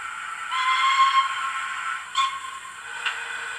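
A model steam locomotive's small whistle blows a sustained hissing toot, followed by two shorter breathy blasts, heard alone.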